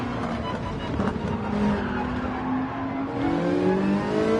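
A Ferrari in a racing video game brakes hard into a corner, tires squealing in a long rising whine over a steady, loud engine drone throughout.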